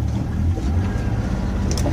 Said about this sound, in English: now I'm going to throttle up